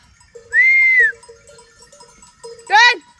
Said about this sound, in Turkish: Keçi.